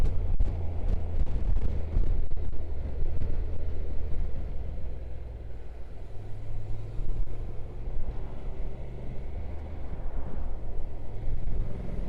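A Honda NC750X DCT motorcycle rides along winding roads, with a steady engine drone and heavy wind rush at the microphone that swell and ease through the bends.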